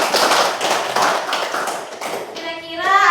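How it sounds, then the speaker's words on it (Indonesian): Schoolchildren clap together in a classroom, a burst of dense, quick, overlapping hand claps that fills the room, with a voice rising near the end. "Tepuk tangan untuk Iqbal."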